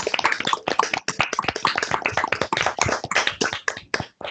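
Participants in a virtual author meeting clap together over open microphones, a dense, continuous patter of hand claps lasting several seconds.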